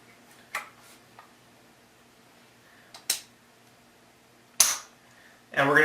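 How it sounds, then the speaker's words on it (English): An AR-15 rifle being charged after trigger unit installation: a few sharp metallic clicks and clacks of the charging handle and action, spaced apart over quiet background, ending in a louder rattling snap. "We're now going to charge the weapon."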